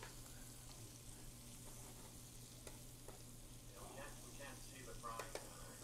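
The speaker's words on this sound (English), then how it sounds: "We can't see the frying." Food frying in hot oil in a pan in a restaurant kitchen, a steady low sizzle running throughout with faint scraping and stirring clicks near the end.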